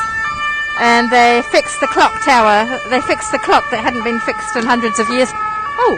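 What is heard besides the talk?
emergency vehicle sirens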